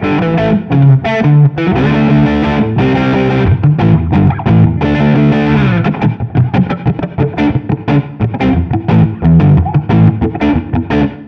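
Artist LP60PRO cherry sunburst electric guitar played through both pickups with volumes and tones full, giving a loud, dirty distorted tone with sustained chords and then choppy rhythmic strums.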